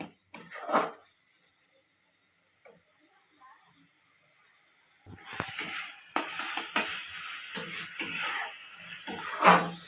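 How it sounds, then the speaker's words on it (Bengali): Ghugni, a Bengali dried-pea curry, being sautéed and stirred in a pan: after a quiet opening with a couple of knocks, a loud, steady sizzle and hiss begins and continues with scraping stirs until the end. "এবার এটা আমি ভালো করে কষে নেব।"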